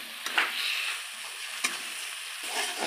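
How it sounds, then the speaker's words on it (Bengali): Ground spices and cumin powder being sautéed in a pan, a steady sizzle with a few sharp scrapes of a spatula stirring through, close and moderately loud, no talking. "সব মশলা দিয়ে কষিয়ে নিচ্ছে"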